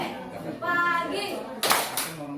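A few sharp hand claps from children at play in a counting-style clapping game, arriving as a short burst after a stretch of an adult's voice giving instructions.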